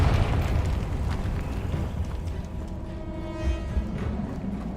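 Confringo fire-blast spell cast in Hogwarts Legacy, a loud rumbling explosion with a sustained roaring low-end burst and a swelling boom near the end, no talking.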